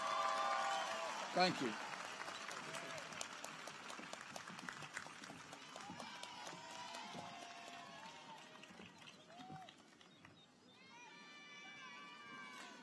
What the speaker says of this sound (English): Let's have some applause for this great teacher.